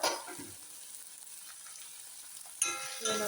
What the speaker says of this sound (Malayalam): നന്നായിട്ട് ഇളക്കി ഈ ലോ ഫ്ലെയിമിലാക്കിയിട്ട്